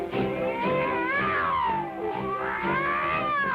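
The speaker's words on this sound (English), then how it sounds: "Using a cat as a siren." A cat's drawn-out meowing used as a siren, a loud wavering wail that rises and falls twice in a siren-like sweep, with no speech.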